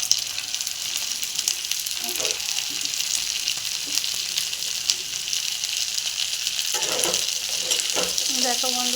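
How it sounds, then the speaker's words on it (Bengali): Chopped snake gourd fries in oil over a high flame with a continuous loud sizzle, occasional stirring scrapes and a faint voice in the background. "চিচিঙ্গাগুলো হাই ফ্লেমেই ভাজতে হবে"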